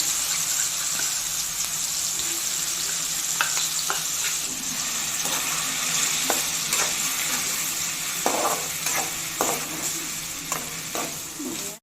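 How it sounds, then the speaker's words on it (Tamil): Small onions sautéing in a hot pan give a steady sizzle and fry, with repeated scrapes and stirring clicks scattered through it, close and moderately loud, with no talking. "இப்போ அந்த வெங்காயம் கொஞ்சம் நேரம் வதக்கியாச்சு"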